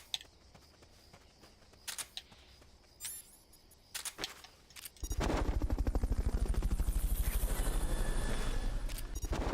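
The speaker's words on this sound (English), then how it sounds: "Fulton recovery subject confirmed onboard helicopter." A helicopter in the Metal Gear Solid: Peace Walker video game: sharp isolated clicks and gunfire-like bursts, then a loud, fast, steady rotor chop that fills the second half.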